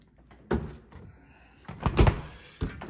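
Refrigerator door in a kitchen pulled open, a soft thunk and rubbery seal release followed by a couple of rattling knocks and a final bump, close by with no talk.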